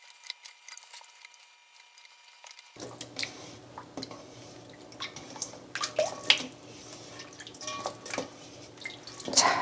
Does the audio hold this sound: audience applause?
no